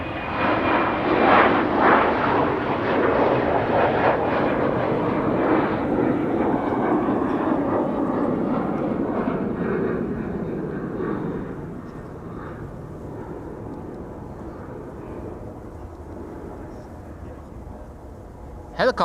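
A jet airliner departs Amsterdam Schiphol Airport, its engines a loud, broad roar that holds steady for several seconds before gradually fading into the distance.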